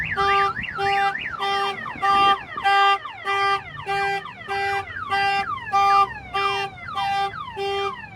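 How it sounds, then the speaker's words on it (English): A 2015 GMC Sierra Denali's Avital alarm siren blares in loud repeating pulses, cycling through warbling and chirping tones about once every half second, close and unbroken. "it'll have a siren going off all at the same time"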